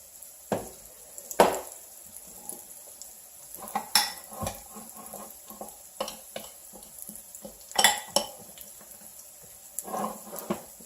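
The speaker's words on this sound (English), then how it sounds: "Give this a little scrape." A cooking pan is scraped in a kitchen, giving sporadic metallic scrapes and taps against a low sizzle, a few sharp clanks standing out over the faint background.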